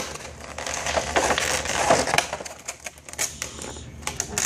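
Back cover of an LG L90 smartphone being slid off by hand, a run of close, dry plastic clicks and scraping rattles over a few seconds, with no talking.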